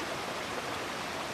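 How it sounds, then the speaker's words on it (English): A crystal-clear mountain stream flows down beside a hiking trail on the way to Hope Lake, a soft, steady babbling rush heard alone at a moderate distance. "There's all kinds of streams coming down"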